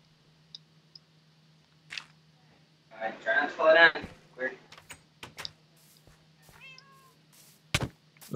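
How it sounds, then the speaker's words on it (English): A cat meows in a Minecraft-style video game, with a drawn-out meow near the middle and a shorter one after, set against a quiet low hum and scattered clicks. "Bro, move, cat."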